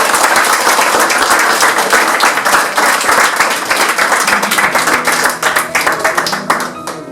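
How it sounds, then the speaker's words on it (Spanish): Loud, sustained applause from an audience closing a conversation event with Lorenzo López Lima, dense clapping throughout that begins to thin and break into separate claps near the end. "Un aplauso."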